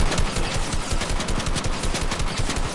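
Rapid automatic gunfire in a shooter game, a fast unbroken stream of evenly spaced shots that stays loud and close throughout.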